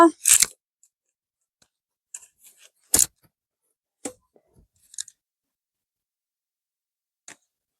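Scattered crisp cuts and snips as bottle gourd is chopped for frying, a few separate knife strokes with long quiet gaps between them.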